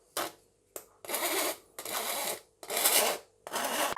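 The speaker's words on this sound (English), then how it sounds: "Go and grab your trusty rasp." A rasp files the edges of egg crispbread in several separate strokes, each a loud, close, rough scraping burst lasting about half a second, with short silent gaps between them.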